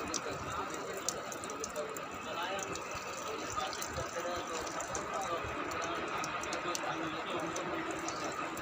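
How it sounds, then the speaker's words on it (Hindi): Water pours steadily from tree roots beside the Alakananda river in the hills, a continuous close rushing and trickling wash that fills the whole stretch at an even level. "किस खूबसूरती से पेड़ की जड़ से पानी निकल रहा है"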